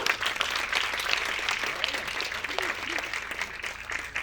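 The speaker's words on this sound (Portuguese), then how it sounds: "com forte aplauso, o Dr. Paulo Musi" Audience applause welcoming a speaker on stage, as a room of people claps steadily and fairly evenly at moderate volume for several seconds, with faint voices mixed in.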